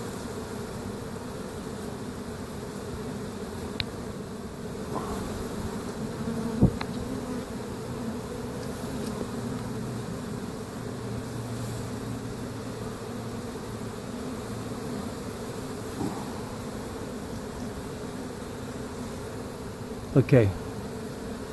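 A honeybee swarm in a peach tree hums as a constant, dense buzz close by, with occasional faint knocks and a brief spoken word over it.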